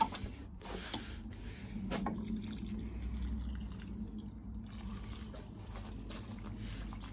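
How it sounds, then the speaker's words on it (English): Tomato plants watered gently in a greenhouse, soft faint trickling and dripping with occasional small splashes, quiet and close, continuing evenly throughout. "Nice and easy watering in here."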